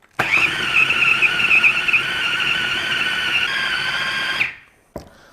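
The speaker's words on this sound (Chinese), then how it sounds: "现在上搅拌机啊" An electric meat grinder whirs loudly, mincing fatty pork shoulder for dumpling filling. It runs in one steady high whine for about four seconds, then cuts off, and a single knock follows.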